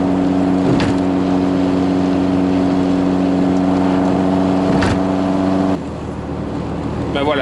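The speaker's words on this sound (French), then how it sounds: "c'est des petits creux dans l'accélérateur qu'on peut essayer de gérer" A classic car's engine drones steadily under acceleration, its tone dipping and stumbling as it hesitates, with a brief drop in level near the end.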